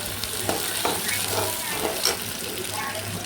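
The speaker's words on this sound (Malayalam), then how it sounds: "നമ്മൾ നേരത്തെ എടുത്ത് വെച്ചിരുന്ന കറിവേപ്പില, വറ്റൽമുളക്, വെളുത്തുള്ളി, ഇതെല്ലാം കൂടെ ഒന്ന് നന്നായിട്ട് മൂപ്പിച്ചെടുക്കണം." Curry leaves, dried chillies and garlic frying in hot oil in a home kitchen, giving a steady close sizzle with soft stirring scrapes and a few light clinks of the spoon.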